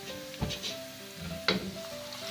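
Hot tadka, golden fried tempering for haleem, poured into the pot sizzles and crackles steadily at close range, with a couple of sharp bursts as it hits the dish.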